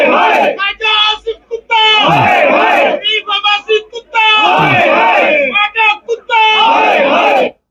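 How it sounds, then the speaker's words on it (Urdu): A crowd outside Adiala jail shouts slogans in loud, rhythmic bursts of massed voices, several surging chants separated by brief pauses, close and forceful. "جناب وہاں پہ نعرے لگائے گئے"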